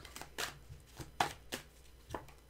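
A deck of tarot cards is shuffled by hand, a series of soft, quick riffling bursts and taps at irregular intervals, quiet and close.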